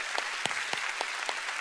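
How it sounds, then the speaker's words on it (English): Sustained applause from a large church congregation giving the Lord a clap, a continuous roar of many hands with distinct, evenly spaced louder claps from nearby. "Come on, give the Lord a big clap."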